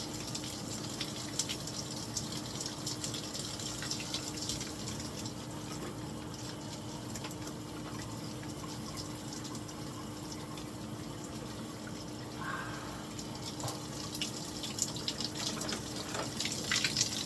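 A running shower sprays a continuous, fairly faint hiss of water for the whole stretch, with a few light knocks and splashes breaking through and no talk.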